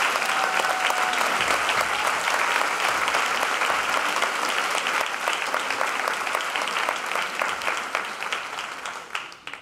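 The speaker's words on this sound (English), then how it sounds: "deserves a big round of applause for all that moving" A large convocation audience applauds steadily for several seconds, a thick, sustained wash of clapping that tapers off near the end.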